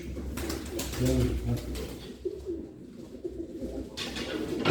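Pigeons coo softly in low, rolling bursts, fairly close, with rustling and a faint voice in the background.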